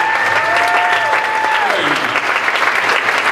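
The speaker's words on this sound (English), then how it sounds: "Give her a round of applause, folks." Cabaret show audience applauding a performer, loud sustained clapping from a crowd close by, with a sung or held tone fading out over the first half.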